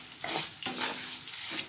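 Tuna pickle masala being stirred in a pan with a sizzling, scraping texture, a few close strokes over a steady fry.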